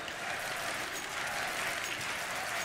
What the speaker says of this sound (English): There's a chant we haven't heard in a while.